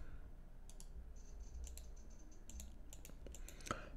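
Quick clusters of keystrokes tap on a computer keyboard, faint and close, in short irregular bursts with brief pauses and a sharper click near the end.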